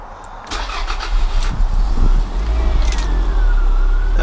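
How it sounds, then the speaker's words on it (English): Toyota MR2 engine starting after an alternator replacement, the starter cranking briefly before the engine catches and settles into a loud, steady close idle. "here comes the moment of truth"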